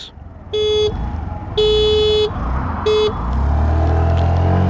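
Three loud horn honks from a 2025 Honda Activa 125 H-Smart scooter, the second longest, followed by the engine revving up and building steadily at full throttle.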